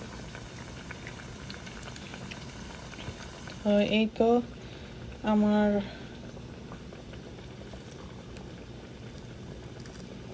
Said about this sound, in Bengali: পেঁয়াজু ভাজা শেষ